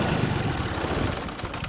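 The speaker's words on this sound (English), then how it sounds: "Sounds great, no problems whatsoever with the engine" A John Deere 3215A engine runs steadily at a loud, close idle, a dense continuous rumble with no break over the short stretch.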